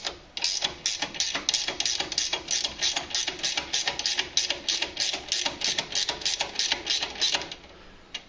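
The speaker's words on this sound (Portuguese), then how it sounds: "Vamos ter que desrosquear tudo isso apertando o próprio amortecedor contra o conjunto aqui" A ratcheting tool works loose the control arm bolts on a Citroën C4 Picasso, giving a fast, even run of sharp metallic clicks in regular bursts close up, then stopping near the end.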